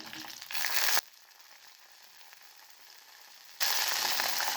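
Loud hissing sizzle of peeled garlic cloves dropping into hot oil for sardine curry, easing to a faint crackle, then flaring up loudly again.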